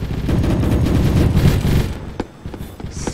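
A machine gun in the Roblox game Recoil fires a loud, rapid, continuous burst for about two seconds before stopping abruptly, leaving a few scattered shots and quieter game noise.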